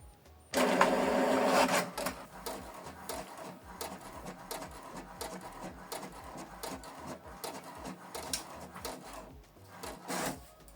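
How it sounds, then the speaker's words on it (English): An HP Deskjet inkjet printer whirs and clatters, starting with a loud burst and then settling into a steady run of mechanical ticks and feeds, close by with no voices. "So it's going to print the document."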